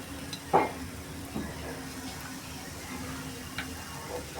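Tomato, carrot and capsicum sizzle softly in a kadai for suji upma, a steady low fry broken by a few sharp spoon clinks and stirring scrapes.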